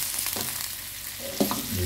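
Labang fish fat frying in a wok, a steady close sizzle with occasional stirring scrapes and a brief louder spatter near the end, no talking.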